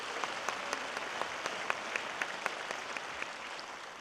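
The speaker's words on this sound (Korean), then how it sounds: "우리 법만 스님 박수 한번" Audience at a Gochang County cultural city briefing applauds a Buddhist monk, a steady wash of clapping with distinct individual claps popping out, sustained throughout and fairly distant in a hall, without talk.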